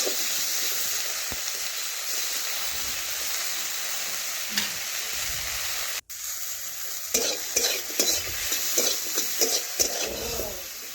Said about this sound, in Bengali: এবারে আবার একটু নাড়াচাড়া করে নিচ্ছি